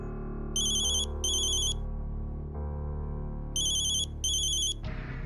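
A phone ringtone chirps in two pairs of bright electronic bursts over a sustained musical background, then cuts off.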